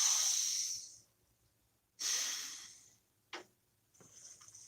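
Slow, deep breaths during a calm tarot reading, each long airy inhale or exhale fading away, followed by a short sharp intake and a softer breath, close and quiet with no talking.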